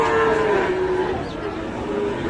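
A cross or Friesian bull at a cattle market gives one long, loud, close moo that slowly falls in pitch, with a dense murmur of the crowded market underneath.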